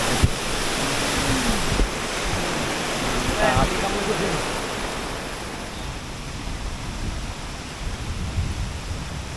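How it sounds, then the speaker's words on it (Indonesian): Gumandar waterfall on a mountain hiking trail, rushing water making a steady loud broadband roar throughout, with a brief voice and some wind buffeting near the start. "sampai di air terjun Bumandar."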